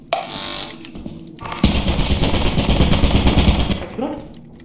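An automated turret in the game Lethal Company fires a sustained rapid burst of gunfire, loud and dense for several seconds, with players shouting over and around it.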